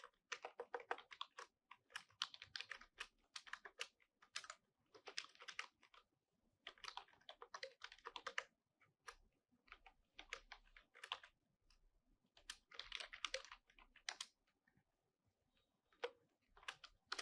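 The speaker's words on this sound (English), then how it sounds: "So don't worry if what I'm typing here does not make any sense" Typing on a computer keyboard while writing a program in an IDE, quick bursts of soft clicking keystrokes separated by brief pauses, close and fairly quiet with no talk.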